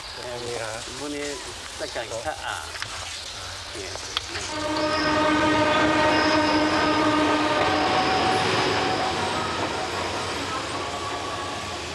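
A train rumbles and clatters loudly along the tracks in China, building into a sustained roar after a few seconds of quieter sound with some voices.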